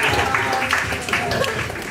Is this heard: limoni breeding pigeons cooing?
no